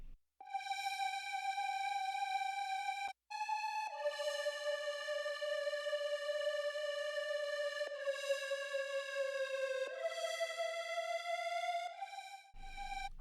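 A sustained, bright synth lead from a Leads Universe preset in FL Studio, made for a drop section, holds long notes with pitch bends and glides between them, loud and clear with rich overtones and no voices.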